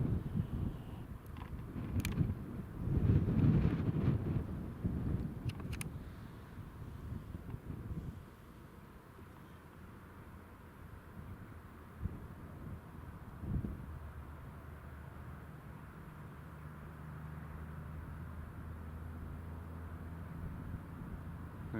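Gusty wind blows across the microphone outdoors at Newcastle International Airport while an Eastern Airways plane lands, with stronger buffeting bursts early on and then a quieter, steady low rumble and hiss.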